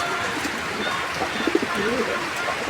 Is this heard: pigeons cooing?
yes